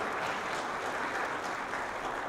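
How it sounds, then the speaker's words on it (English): An audience applauds together in a steady, dense round of clapping during a live leadership talk, filling the room evenly with no voices rising above it. "Real quick, give yourself a round of applause."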